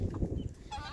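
About fifty hens housed in a chicken tractor on a farm, with low clucking and a honk-like call close by over steady background noise.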